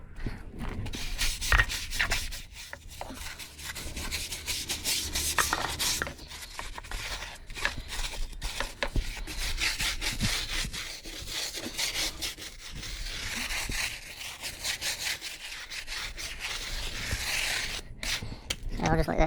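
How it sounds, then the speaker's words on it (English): A brush scrubs car wheels coated in Simple Green on a Mitsubishi 4WD: continuous close, rough back-and-forth bristle rubbing in quick strokes, with brief pauses. "Just give them a bit of simple green. Just a bit of scrub."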